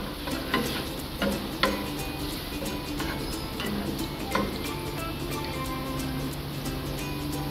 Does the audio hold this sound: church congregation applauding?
no